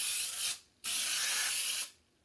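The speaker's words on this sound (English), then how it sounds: "You can use any kind of cooking spray." Cooking spray hisses onto a hot waffle iron in two steady bursts, the first about half a second and the second just over a second, close and fairly loud with a short pause between.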